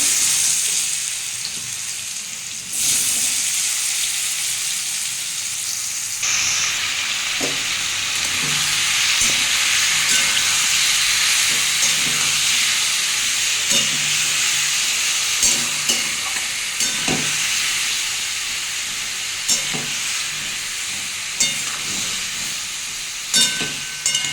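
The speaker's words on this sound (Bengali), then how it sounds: "পেঁপেগুলো আবার দিয়ে দেবো একটু ভেজে নেবো" Ripe papaya pieces fry in hot oil with dried red chillies and mustard seeds for chutney, making a loud, continuous hissing sizzle that swells after a few seconds, with scattered spoon scrapes and stirring clatter throughout.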